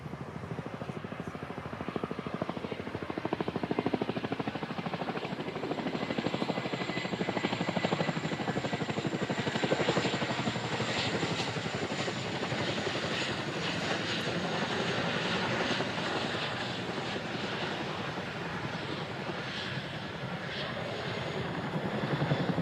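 Helicopter flying a display at the Farnborough airshow, a sustained loud rotor and engine roar with rapid blade chop that swells and eases as it maneuvers overhead, continuing without pause.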